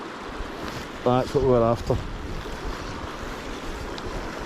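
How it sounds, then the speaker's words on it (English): Wind blowing steadily over a river during fishing, a broad airy rush with mic buffeting, while someone speaks briefly over it. "I get the wind whistling down over my shoulder now"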